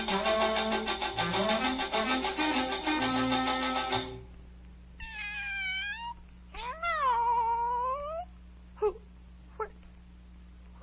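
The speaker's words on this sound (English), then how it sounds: "Oh, it's the Cheshire Cat from the Duchess's." A cartoon Cheshire Cat from a 1948 Alice in Wonderland meows in several drawn-out, wavering calls after a burst of music ends, followed by a few short clicks, clear and close with no talk.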